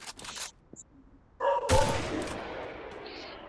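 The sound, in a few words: machine gun fire in Free Fire video game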